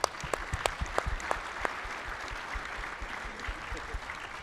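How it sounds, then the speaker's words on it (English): Audience applause at a Thursday session of a 2019 conference, a steady patter of many hands clapping with sharp individual claps standing out, filling the room for several seconds. "Can we give a round of applause for John?"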